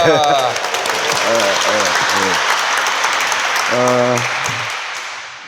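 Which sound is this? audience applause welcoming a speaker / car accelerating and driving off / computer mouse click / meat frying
audience applause welcoming a speaker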